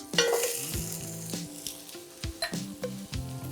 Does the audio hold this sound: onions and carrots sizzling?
yes